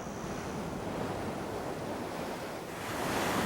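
Ocean waves wash onto an Australian beach, a broad continuous roar of surf mixed with wind rumble on the microphone, swelling louder toward the end, with no voices.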